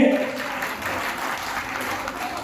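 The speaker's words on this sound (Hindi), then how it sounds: "जोरदार तालियां बजा दो इनके लिए।" Steady, dense applause from a sizable crowd at a religious satsang gathering in a hall, loud and continuous throughout with no pauses.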